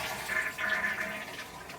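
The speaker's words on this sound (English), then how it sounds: "I'm a little afraid to flush the toilet" A household toilet flushing, a fairly faint, continuous rush and gurgle of water through the bowl, heard alone for a couple of seconds.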